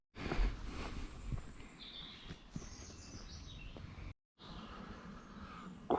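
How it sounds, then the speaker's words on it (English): Woodland birdsong along a walking route, faint chirps and whistled phrases scattered through quiet background rustle, distant and soft with a brief dropout midway. "you can hear all this bird song"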